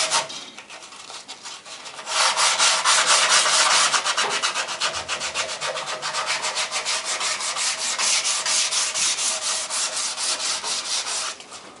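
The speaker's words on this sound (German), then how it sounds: "Jetzt will ich da erst nochmal mit Schleifpapier drüber gehen." Hand sanding wood with sandpaper: brisk, rhythmic back-and-forth scratching strokes, close and steady, after a brief quieter start.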